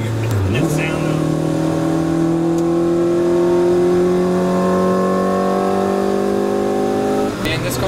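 A classic Mini Cooper with a B18 engine swap revs hard, its engine tone climbing steadily for several seconds, loud and near, with sharp cracks at the start and end.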